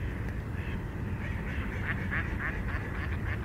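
Urban ducks and geese quack and honk in a continuous, busy chorus, close and fairly loud, with no voices over it.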